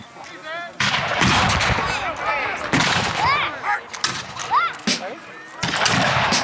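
Gunfire at a battle reenactment in Glengarry, Ontario, with loud irregular musket and cannon blasts in bursts, broken by short pauses, while shouted voices carry over the shooting.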